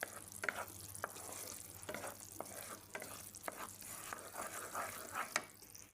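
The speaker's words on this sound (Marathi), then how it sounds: "चाळ मारीत रावपाचो" A spoon stirs melting jaggery in a pan for Goan chrimule ladoo, giving steady scraping strokes over a soft sizzle, with repeated clicks as the spoon knocks the pan.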